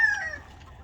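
A backyard chicken gives a brief, faint cluck, a single short call with no talking.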